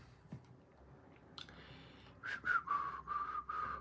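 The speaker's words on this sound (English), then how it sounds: "I'm going to start whistling because I can't see what I'm doing." A person whistles a short run of notes, a few rising and falling tones after some faint clicks and rustling; close and fairly quiet.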